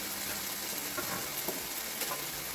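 Onions and carrots fry in a pot as the base for a beef stew, giving a steady broadband sizzle with a few faint clicks of stirring, close and even throughout with no talking.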